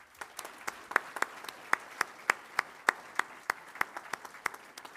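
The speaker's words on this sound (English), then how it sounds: "Can you please join me in a round of applause to thank all the men and women who have" Scattered, individually distinct hand claps from a modest audience at a practical nursing commencement ceremony, keeping a steady, fairly sparse rhythm throughout at moderate volume.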